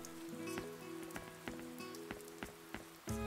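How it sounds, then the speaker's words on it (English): Steady rain falls in the role-playing game Shining Resonance Refrain, a soft continuous patter running beneath melodic game music with regular percussive hits. "In the rain."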